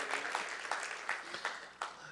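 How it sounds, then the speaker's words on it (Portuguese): A church congregation applauds during a Portuguese-language service, soft scattered clapping with several distinct sharper claps, fairly distant and moderately quiet. "Pode dar um aplauso a Jesus, que a honra e a glória é dele."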